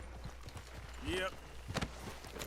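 A horse's hooves clip-clop at pace in the video game Red Dead Redemption 2, quick rhythmic thuds under game noise, with a voice speaking briefly over them.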